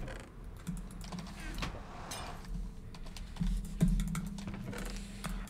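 Typing on a Razer keyboard produces a rapid, uneven run of close key clacks and taps over a low steady hum, with a few heavier strikes near the end.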